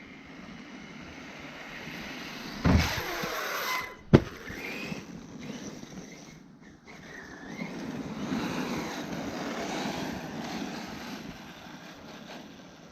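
An Arrma Kraton 6S RC truck is driven around a homestead, its motor whining and rising and falling across the run, with two sharp thumps or impacts early on and a broad buzzing drone afterward, no talk.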